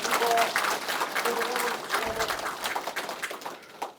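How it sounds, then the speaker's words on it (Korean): An audience at a residents' gathering in Uljin, Korea claps to welcome introduced guests, a lively burst of applause that gradually thins out, with a voice speaking briefly over it. "소개할 때마다 큰 박수로 화답해 주시면 고맙겠습니다."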